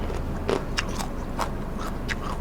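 Bites into crispy fried banana coated in wild yam (kloi) batter, a Thai street snack from Lat Krabang, giving several sharp close crunches spread over a couple of seconds against a steady background hum.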